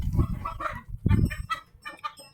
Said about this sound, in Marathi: हे आपल्या मोठ्याला कोंबड्या आहे